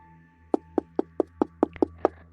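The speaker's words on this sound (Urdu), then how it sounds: "بار بار کھڑکی کے کھٹکھٹانے کی آواز آتی" Repeated knocking on a window in an animated horror story, a close, sharp series of about eight evenly spaced raps over a low steady hum.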